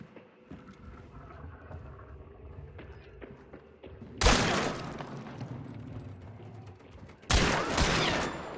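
Gunfire crackles far off in a video game: a low, scattered rumble of shots, then two sudden loud bursts of dense firing several seconds apart, each trailing into a noisy wash.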